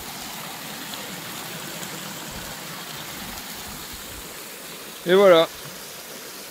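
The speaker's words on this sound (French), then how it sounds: "On va faire le plein d'eau juste ici au ruisseau." A shallow stream rushes steadily and close by while a filter water bottle is filled at a campsite creek, with a short spoken phrase near the end.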